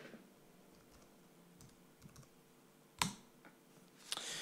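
Typing a tempo value on a computer keyboard, a few faint, sparse key clicks and one sharper tap against a quiet room hum, with no speech.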